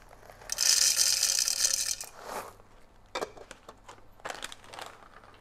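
IMIX Professional flat burr home grinder grinding coffee beans, a loud rattling, crunching burst of just over a second, then a few shorter sputtering grinds and clatters.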